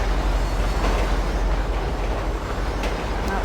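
Train running on rails in the video game GTA V, a steady broadband rumble of wheels and carriage throughout, continuous and fairly loud with a few faint high clicks near the end.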